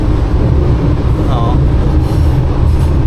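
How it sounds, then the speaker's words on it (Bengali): An Istanbul metro train rumbles loudly from inside the carriage, a heavy continuous low roar with a brief squeal partway through, while people talk over it. "এই এখানে ইস্তানবুলের মেট্রো"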